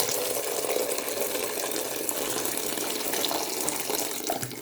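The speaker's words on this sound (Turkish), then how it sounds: "Dostlar çorbamızın suyunu ilave ediyoruz." Water pours steadily into a pot for Turkish dökme hamur (poured-dough) soup, a continuous close rushing splash with no break and no talking.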